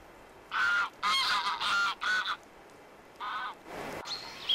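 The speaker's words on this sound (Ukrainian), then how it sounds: "Почався і проліт гусей. Їх призивні крики лунають і вдень, і вночі." A flock of migrating geese honks loudly in several long, overlapping calls, with a short pause before more honking resumes.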